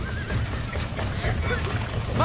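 Horses in Red Dead Redemption whinny and neigh amid a dense, noisy scene with shouting voices and hooves, a constant rumble beneath.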